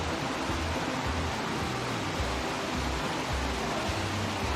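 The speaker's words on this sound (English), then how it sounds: "we made it to the waterfall at the base of Mt Gimie." A waterfall at the base of Mt Gimie in the St. Lucia rainforest pours in a steady, dense roar of falling water, loud and continuous with no voices over it.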